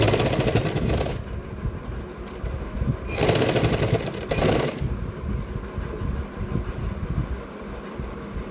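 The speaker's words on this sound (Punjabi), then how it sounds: "ਸਭ ਤੋਂ ਪਹਿਲਾਂ ਆਪਾਂ ਡਬਲ ਸਲਾਈ ਕਰਨੀ ਹੈ" Sewing machine stitching a salwar seam, its motor whirring in short runs that start and stop, with a few brief louder bursts and quieter pauses between them.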